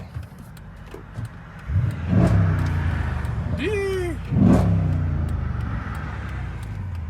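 A 2008 Dodge Charger SRT8 engine is revved hard twice in deep, throaty bursts, close by, with someone talking between the revs.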